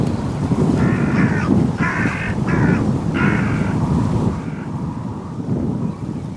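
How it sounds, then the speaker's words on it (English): Hooded crows cawing outdoors in a field with a decoy and dead rabbit, a series of four harsh caws in quick succession over steady wind-like background noise. "Not one, but 4 hooded crows just appeared from nowhere and dropped straight down into the decoy and dead rabbit"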